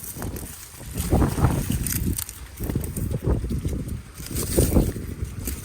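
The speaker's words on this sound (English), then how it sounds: "Getting windy a bit." Gusty wind blows outdoors in a sunflower garden during seed and stalk harvesting, with uneven bursts of low rumbling buffeting that rise and fall over several seconds.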